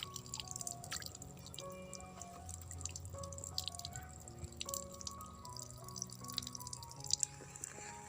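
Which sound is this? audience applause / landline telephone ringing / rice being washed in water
rice being washed in water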